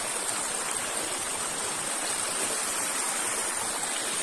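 Monsoon stream water rushes steadily where people were bathing, a continuous loud broadband flowing roar with no breaks and no talk.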